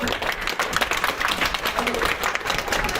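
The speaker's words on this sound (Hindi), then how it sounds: "ताली मारो सबके लिए" Many hands clap together in sustained, lively applause from a classroom group, with some voices blending in underneath.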